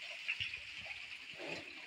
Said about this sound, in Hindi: वाटरफॉल पानी